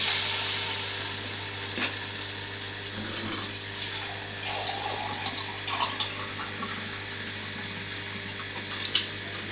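Water pours steadily into a cooking pot of rice for pea pulao, a soft continuous splashing stream running for several seconds at moderate volume with no talk.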